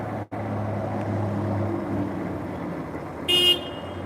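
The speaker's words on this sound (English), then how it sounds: "See the honking?" Car horns honk in an outdoor traffic scene during a live stream, a short bright toot standing out near the end over a steady engine rumble and road noise.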